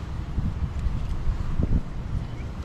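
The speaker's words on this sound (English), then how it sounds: "I guess the wind is picking up a little bit more." Gusty wind blowing outdoors near the mountains, a steady broadband rush with low rumbling buffets against the microphone, rising and easing over a few seconds.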